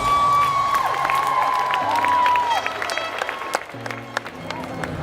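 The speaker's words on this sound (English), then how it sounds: "stand up and give yourself a round of applause" Audience applause and cheering at the 2018 Rainier Beach high school graduation ceremony, a steady roar of clapping and crowd noise with a sustained whistle-like tone above it, loud and continuous throughout.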